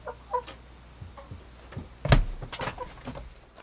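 A chicken clucks in short, scattered calls near a van, with a louder knock or door-like thump in the middle and soft background noise, no clear talk.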